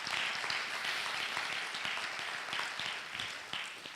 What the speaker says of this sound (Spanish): Dar un aplauso al Señor por esa gran verdad.